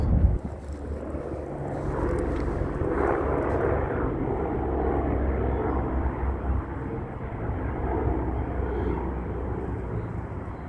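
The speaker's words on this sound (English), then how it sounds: "Here go another helicopter." A helicopter passes overhead, a steady broad rotor and engine roar that stays loud and continuous throughout, with no talking.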